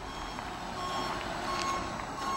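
A truck reverses to deliver a shipping container, its backup beeper sounding in a steady repeating pattern over a low engine rumble at moderate distance.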